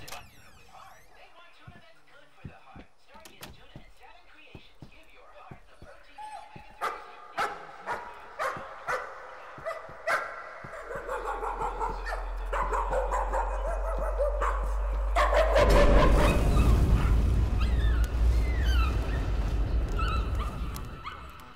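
Dogs bark and whimper in the horror game Layers of Fear, starting as sharp, repeated barks and building into a loud, dense, sustained wash of sound, with a deep rumble underneath.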